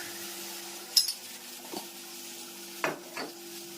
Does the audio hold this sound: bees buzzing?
no